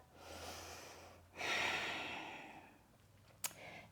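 A person takes a cleansing breath during a yoga session: a soft inhale, then a long, audible exhale that swells and fades, close and quiet, with a small click near the end.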